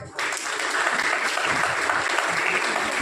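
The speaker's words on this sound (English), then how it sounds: "Let's give a huge round of applause" Audience at a college fest valedictory session breaks into steady, loud applause that starts abruptly and holds at an even level, a dense wash of clapping from many hands.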